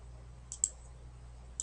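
Mouse clicks while placing spline points in modeling software, a few faint, sharp clicks spaced apart over a quiet background.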